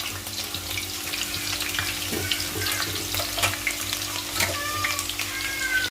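Chopped onion and green chilies sizzling in hot oil for mutton curry, a steady dense crackle throughout with occasional louder pops and a faint background hum, no voices.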